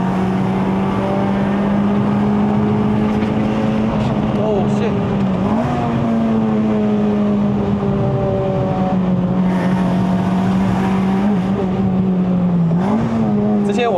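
A 2008 Honda Civic Type R FD2R runs steadily along a Malaysian mountain road toward Genting, its engine holding a strong, even drone with brief dips and rises as the driver shifts or lifts, loud and close throughout.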